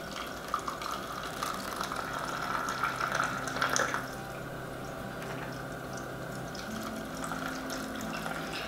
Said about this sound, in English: you're just gonna add a little bit of hot water to each of your candle vessels to kind of melt out that remaining wax